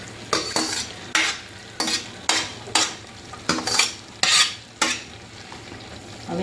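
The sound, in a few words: stirring Hakka noodles in a pan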